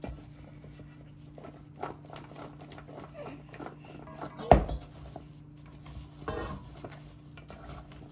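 Cucumber kimchi gets tossed in a bowl, with soft wet squelches and light clinks of utensils against the dish, one sharp knock partway through, and a low background hum.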